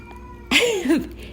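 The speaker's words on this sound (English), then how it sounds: "He will just walk in and just start meowing at me like for no reason." A male house cat gives a single close, clear two-part meow that rises and then dips, lasting about half a second in a quiet indoor room.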